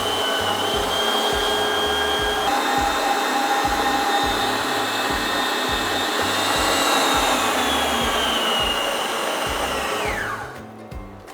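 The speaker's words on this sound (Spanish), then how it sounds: "Ponemos a batir hasta que se haga nuestro merengue." A steady electric mixer whirs loudly as it beats Italian meringue with poured syrup, holding a constant high drone with a faint pitch shift midway before spinning down and cutting off near the end.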